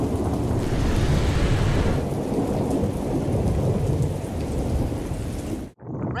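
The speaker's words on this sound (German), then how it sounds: "Alles dunkel, Gewitter und Donner" Heavy rain pours down continuously while deep thunder rumbles through it, loud and close, during a bike ride near Salzburg, before cutting off abruptly near the end.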